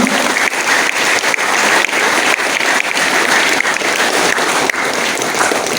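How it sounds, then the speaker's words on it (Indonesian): Loud, sustained applause from an audience at a high school orientation event fills the whole stretch, dense clapping with no pauses and no voices on top. "Mari kita berikan aplaus yang meriah untuk kita semua."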